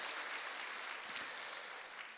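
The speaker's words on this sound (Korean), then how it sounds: "우리 박수로 한번 함께 격려하며 시작하도록 하겠습니다." Applause from a church congregation at a semester-opening worship service and one-day revival, heard as a faint, steady wash of many hands clapping with no voices over it.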